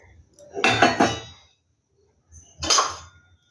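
Half a bowl of water and half a bowl of sugar go into a bowl as the base for homemade orange candy, with two short bursts of clinking and clattering dishes close by, separated by a quiet pause.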